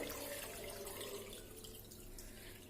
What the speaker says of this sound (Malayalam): അപ്പോൾ നനവില്ലാത്തതിലേക്കാണ് ഞാൻ സ്റ്റെയിൻ ചെയ്യാൻ വേണ്ടിയിട്ട് ഒഴിച്ചു കൊടുക്കുന്നത്.